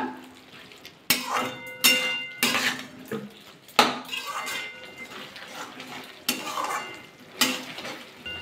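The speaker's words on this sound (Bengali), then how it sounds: "আবার একটু নাড়াচাড়া করে নিলাম" Metal spoon stirring pui shak (Malabar spinach) in a pan, a run of loud scraping clanks against the metal at irregular intervals over a faint background sizzle, close by with no talk.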